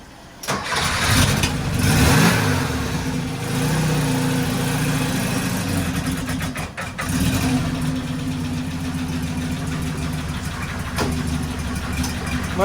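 An old carburetor car engine cranks and catches, then runs with a loud, rough, steady drone and a few brief revs, close by with no talk.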